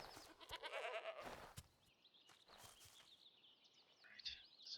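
Sheep bleating in the video game Divinity: Original Sin II, a few short bleats with a bird-like chirping call near the end, faint and alone.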